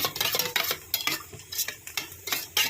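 Yogurt being whisked for a brinjal curry, a spoon clicking and scraping against the bowl in quick irregular strokes, close and alone with no talking.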